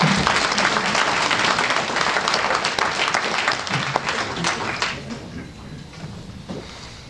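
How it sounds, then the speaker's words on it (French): An audience at a town event in Essert bursts into sustained applause for the volunteers of the local library, dense clapping that thins and fades toward the end, with a few faint voices underneath. "On peut les applaudir."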